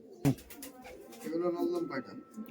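Giribaj pigeons coo in a low, throaty burble with a sharp knock near the start, the cooing swelling midway and overlapping a voice talking nearby.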